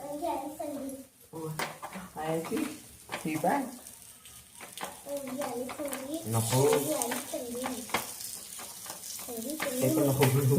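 Sprouted moong appe fry in oil in an appe pan and get turned, a soft continuous sizzle beneath someone speaking throughout, with a voice and light clinks now and then.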